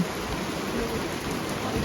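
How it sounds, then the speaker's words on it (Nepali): Rain falls steadily at a village stop in Dana, an even hiss of drops on surfaces close by, with no talk over it. "आउँदा आउँदा यता चाहिँ पानी परिरहेको रहेछ"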